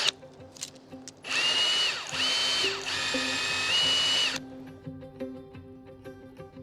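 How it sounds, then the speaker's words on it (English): A power drill bores a hole into a tree trunk, its motor whining loudly and steadily for about three seconds in close range, bracketed by quieter clicks and handling noises before and after. "when we come to drill the tree, we would drill slightly pointing upwards"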